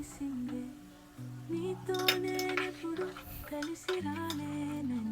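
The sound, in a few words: stirring baby corn tomato curry in a pan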